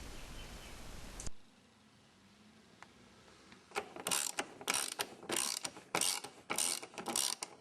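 A wrench ratchets in quick repeated clicking bursts while bolts are undone beneath the seat of a Can-Am Spyder RS, close and crisp against a quiet background.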